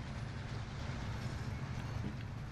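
Train rolling on rails in Call of Duty: Warzone, a steady loud low rumble with continuous rail noise throughout.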